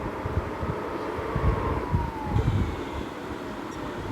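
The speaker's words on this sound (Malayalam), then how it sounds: "ആംബുലൻസ് ആണ് അങ്ങോട്ട് പോയോ." An ambulance siren wails in the distance over steady traffic rumble, its tone sliding downward as the vehicle moves away.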